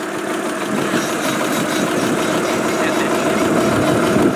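A classic Italian car engine idles close by at the Concorso Italiano during Monterey Car Week, a loud, steady rumble with an even, slightly knocking pulse.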